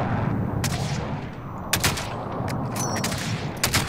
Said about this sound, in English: Big gunfight up there.